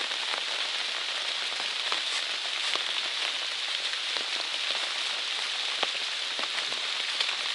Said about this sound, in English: it started raining more